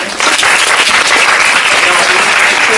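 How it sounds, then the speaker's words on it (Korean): Audience applause fills a lecture hall at the close of a Seoul National University meditation lecture, a dense, steady clapping that starts abruptly and holds loud without pause. "시 한번 우리 또 귀한 시간 내주신 우리 또 한바다 선생님하고 어우진 선생님하고 우리 또 선생님 큰 박수 이렇게 부탁드립니다."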